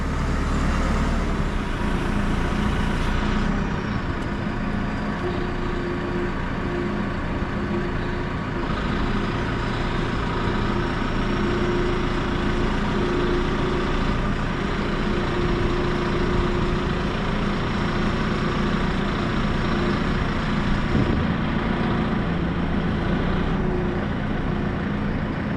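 A JCB machine with crab-walk steering runs its engine while climbing on a concrete block site, a loud steady diesel drone that shifts slightly in pitch, no voices.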